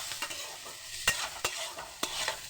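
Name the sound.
vegetables frying for chow mein on gas stove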